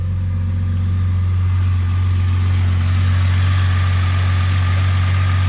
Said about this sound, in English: Yeah, it's idling the way it should be.